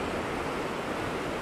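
Ocean waves wash onto a quiet sandy beach at Ao Manao in Prachuap Khiri Khan, Thailand, a steady, even roar of surf heard alone without voices.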